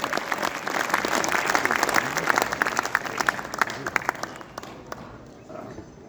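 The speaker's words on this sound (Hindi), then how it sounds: "जोरदार तालियां" A crowd at a motivational talk breaks into loud applause, dense clapping with some individual sharp claps standing out, gradually thinning and fading toward the end.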